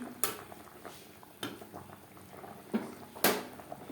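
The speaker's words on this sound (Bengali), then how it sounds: "আলু সেদ্ধ হওয়া পর্যন্ত অপেক্ষা করব গ্রেভির সাথে আলু বেশ ভালো করে সুসিদ্ধ হয়ে গেছে" Potatoes boil in gravy for a Bengali rui fish curry, a soft bubbling simmer broken by a few sharp clinks and scrapes of a utensil against the pot.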